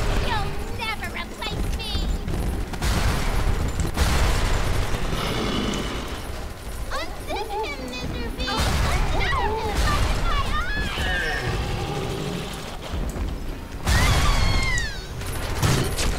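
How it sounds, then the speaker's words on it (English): Automated turret fire rattles in repeated bursts during a Bioshock 2 fight, mixed with mechanical whirring, sharp cries and other game noise, while a voice talks over much of it. "his turret is still shooting me"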